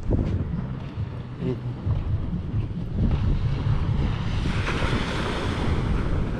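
Sea waves wash onto a clean beach shore under steady wind, a continuous loud rush of surf with wind buffeting the microphone and no talk.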